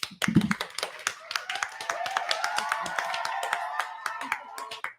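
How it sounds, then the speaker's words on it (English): A small group gives a round of applause at an artist event in Miami, a few distinct hand claps ringing close and sparse over a faint background murmur, fading out at the end. "round of applause to yourself"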